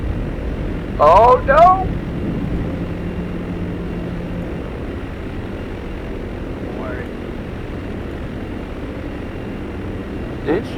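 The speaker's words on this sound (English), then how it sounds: "Bomber 1's in the air." A German bomber aircraft flies with a steady, low engine drone throughout, while a voice briefly exclaims over it early on.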